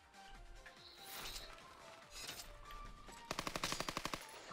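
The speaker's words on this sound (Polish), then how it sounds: "Fajnie się strzela." Gunfire in Call of Duty: Black Ops 4 on PS4: scattered shots and mechanical clicks build into a fast, sharp automatic burst near the end, fairly quiet overall.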